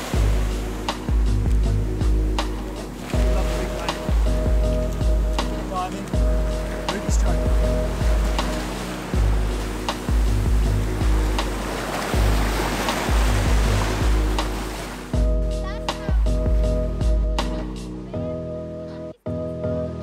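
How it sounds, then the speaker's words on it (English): Ocean surf rolling onto Surin Beach, Phuket, a steady loud wash of breaking waves across the whole stretch, with some faint voices mixed in. "Yeah, Surin Beach."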